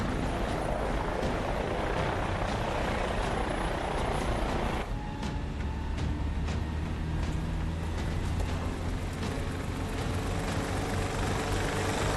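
A helicopter flies in an action film, its steady rotor drone and engine wash filling the whole stretch with no letup, dropping slightly in tone partway through.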